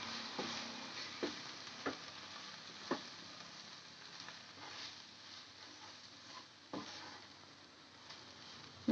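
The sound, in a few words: stirring garam masala and turmeric in frying oil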